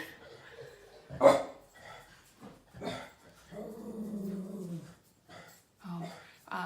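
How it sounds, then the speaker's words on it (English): Two dogs barking indoors, several sharp barks and growly yips scattered among quieter stretches, close by and moderately loud. "So when they both get together, they're just barking all the time."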